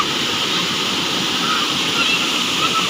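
Small village waterfall with a man bathing in the pool below: a constant, loud wash of falling water, close and unbroken, with no clear voices over it.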